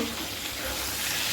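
Pointed gourd and eggplant frying in a pan for a poppy seed dish, a loud, steady sizzle of hot oil with a low rumble underneath, close and continuous.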